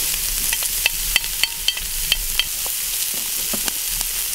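Onion fries in a pan as the base of a tomato sauce, a steady bright sizzle punctuated by sharp crackles and spatula scrapes as it is stirred, with no voices.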